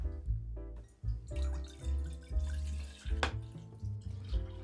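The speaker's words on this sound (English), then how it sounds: "Pour about 2/3 of the milk into a pot." Milk pours from a container into a cooking pot in a home kitchen, a close liquid splashing and gurgling in several uneven bursts with short pauses between.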